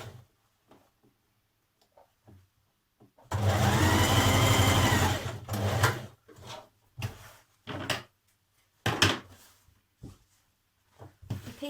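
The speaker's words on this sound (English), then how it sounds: "Now we're ready to begin sewing in our pocket pieces." A sewing machine runs in one sustained burst of rapid stitching on skirt pocket pieces, followed by shorter starts and stops and quiet handling clicks between them.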